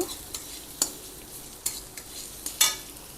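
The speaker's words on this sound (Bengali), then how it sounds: "এই পেঁয়াজটা দিয়ে একটু নাড়াচাড়া করব" Onion being stir-fried in a pan for an okra dish: a steady soft sizzle broken by several sharp scraping clicks of the spatula against the pan, with no voices.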